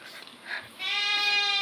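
A goat bleats loudly and close, a long wavering cry following a shorter nasal call, with no talking.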